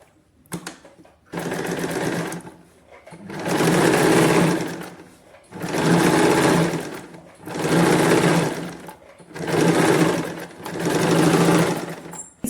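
A sewing machine stitches a puff sleeve for a katori blouse, running in five or six long, steady bursts separated by short pauses, loud and close with no speech.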